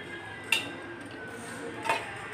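A pressure cooker lid set in place while home-cooking desi chicken with potatoes, giving two brief metallic clinks about 1.4 seconds apart over a low kitchen hum.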